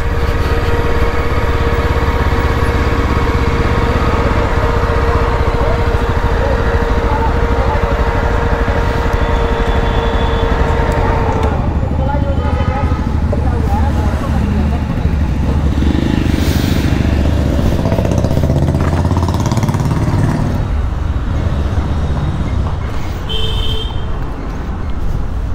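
Yezdi Scrambler motorcycle engine running loudly and steadily outdoors near a showroom, a continuous close rumble with a broad buzzing hum that shifts partway through as traffic and street noise mix in, no talk over it.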